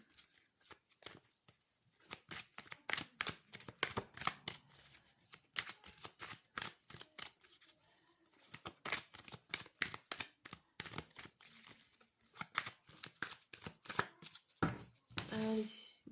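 Tarot cards are shuffled close up in rapid repeated riffles and slaps, a busy crisp rhythm running throughout with brief pauses.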